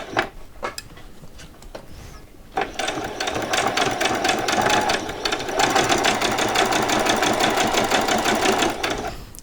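A sewing machine stitches fabric for Christmas pyjamas, a few single taps first, then a loud, fast steady whirring run of stitches that carries on for several seconds before stopping.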